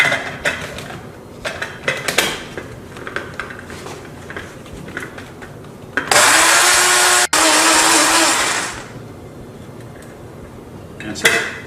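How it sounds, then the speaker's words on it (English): An electric grinder whirs loudly for about two seconds as sugar is ground into powdered sugar, surrounded by quieter clinks of utensils and kitchen handling before and after. "you're going to just grind it up in this grinder here"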